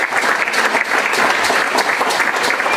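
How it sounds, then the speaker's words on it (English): A church congregation claps for the praise and worship team in a dense, even burst of hand claps that stays loud and steady for a few seconds, with no voices rising above it. "Let's clap hands for our family, our praise and worship family."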